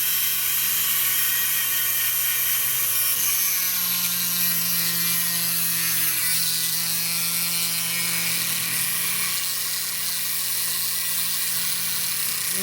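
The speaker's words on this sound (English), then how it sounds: "we're going to take this, we're going to kind of just sand it down" A small rotary sanding tool whines steadily as it smooths a cut in a lock, its high-pitched grinding continuous and close with slight shifts in pitch.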